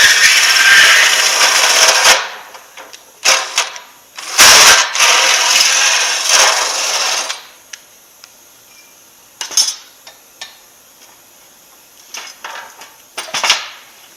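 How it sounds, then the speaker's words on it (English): Loud bursts of high-pitched drilling into a metal gauge panel, several separate runs of a few seconds each with clicks and handling noise between them, no talking. "All right, so now we're going to drill some holes for the gauges."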